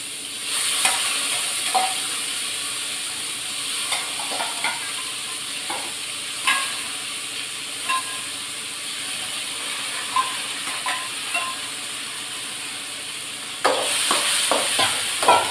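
Cluster beans sizzle in a hot pan while a spoon stirs and scrapes them at irregular intervals, the steady frying hiss broken by clicks of metal against the pan.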